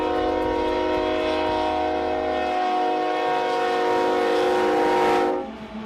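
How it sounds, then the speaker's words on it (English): A train rumbles by close and loud, its long drawn horn blaring steadily for several seconds before fading out near the end. "There's a train coming from the other direction."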